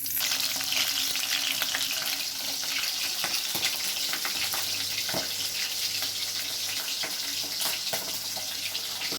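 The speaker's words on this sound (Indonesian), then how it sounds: "Kalau nggak goreng kayaknya kurang enak, jadi aku goreng aja." Food frying in a pan for an early-morning home-cooked breakfast, a steady close, loud sizzle and crackle running throughout with occasional stirring scrapes, no talking.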